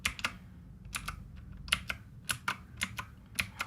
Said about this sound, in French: Ce clavier dispose donc de touches mécaniques et ça s'entend tout de suite dès les premiers appuis